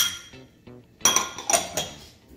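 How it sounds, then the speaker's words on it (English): Shallots and finely chopped green pepper are stirred in a pan, a series of sharp metallic clinks and scrapes from utensil against cookware, close and fairly loud, following a few softer tones. "we're gonna stir that around for a few minutes"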